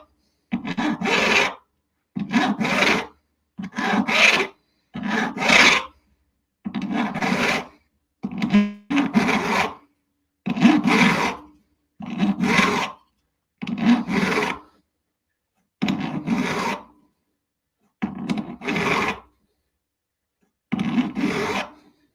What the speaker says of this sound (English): I am opting for not fancy filing, but a bit of a smoother transition, a bit more of an exciting transition